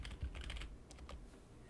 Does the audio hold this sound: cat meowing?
no